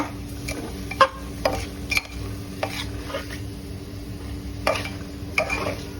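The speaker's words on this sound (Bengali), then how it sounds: "চালটা একটু মশলার সাথে কষাই নিচ্ছি।" Rice is stir-fried with spices for khichuri, a spatula scraping and clinking against the pan in sparse, irregular strokes over a steady low background hum, with no talking.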